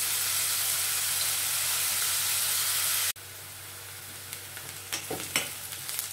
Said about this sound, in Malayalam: ഇതൊന്ന് ബ്രൗൺ ആവുന്ന വരെ നമുക്കൊന്ന് വഴറ്റിയെടുക്കാം